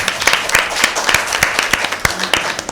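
An audience at a Bible quiz show claps for a correct answer, a dense steady burst of many hands clapping close and loud throughout.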